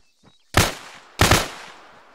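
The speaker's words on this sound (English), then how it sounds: "just flinch and I'm gonna shoot him again" Two loud, close gunshots crack about half a second apart during MOUT urban combat training, each with a short ringing decay and no talk over them.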